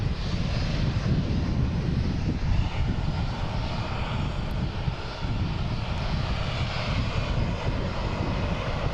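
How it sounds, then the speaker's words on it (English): At Boston Logan airport, a Spirit Airlines jet's engines give off a steady, loud, broadband roar that continues without a break, with no voices heard over it. "the Spirit is making a racket here in the alley"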